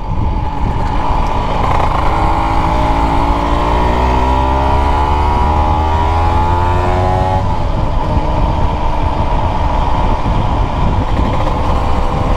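A Honda NSR motorcycle fitted with a Malossi 180cc kit and a Dellorto carburettor revs up loud and close, its two-stroke engine note climbing steadily for several seconds before settling into a steady, buzzing drone.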